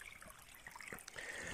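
A thin Bavarian mountain brook in the Western Ore Mountains trickles and gurgles softly, close by and faint, with small splashes over a steady flow of water.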